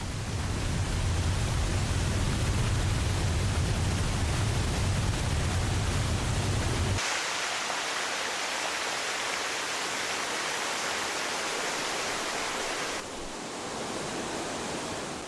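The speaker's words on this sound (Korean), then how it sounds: "높이 74m로 금강산에서 가장 웅장하고 아름답다는 구룡폭포." Guryong Falls on Mount Kumgang, a 74-metre waterfall plunging over a vertical cliff, gives a steady, broadband roar of rushing water. The roar shifts in character partway through, first heavy and bass-rich, then brighter and thinner, with no voices.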